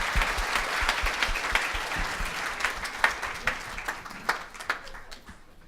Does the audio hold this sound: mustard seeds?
no